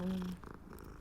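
Cat purring in the video game Hogwarts Legacy, a short, close, soft rumbling purr with a brief tonal hum at the start, fading quickly into quiet game ambience.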